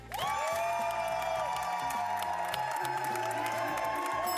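A crowd cheers and applauds loudly and continuously, with whoops rising over the steady roar while music plays underneath.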